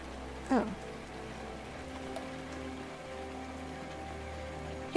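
Steady rain falls in the video game Rainswept, a soft continuous patter holding at low level throughout, with a couple of brief louder knocks standing out above it.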